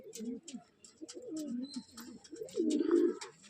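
Pigeons coo in soft, repeated rolling phrases, close and fairly loud, with faint chirps above. The birds are shown as a female kept for pigeon fancy.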